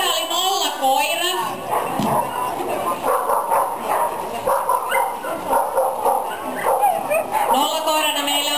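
At an agility competition, a dog barks and yips in short bursts in the background while an announcer talks steadily over it.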